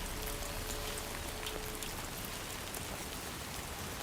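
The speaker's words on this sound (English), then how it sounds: "Under the rain, yeah, because it's a time fold." Steady rain falls in a video game, a dense even hiss of droplets that holds at the same level throughout with no voices.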